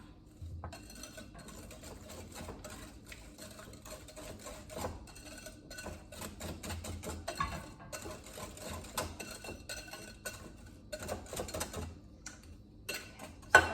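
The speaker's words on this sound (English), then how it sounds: "I'm going to whisk all that together" A pumpkin dessert mixture being whisked in a bowl, producing continuous rapid clicking and scraping of the whisk against the bowl. The sound stays close and steady throughout, with no talking.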